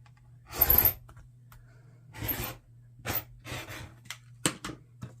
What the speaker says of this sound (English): it's going to cut about a quarter inch away from the tip of the hexie on both sides here